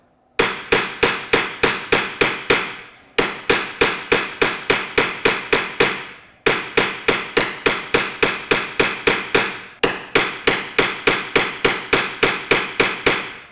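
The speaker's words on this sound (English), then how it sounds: "We're switching from a nylon hammer to a steel planishing hammer." A steel planishing hammer strikes a metal bracelet in fast, steady bursts of sharp metallic ringing, four runs of rapid blows separated by short pauses, loud and close.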